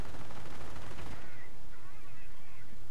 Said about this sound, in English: there was quite a bit of an explosion. Maybe it's from the recoilless rifles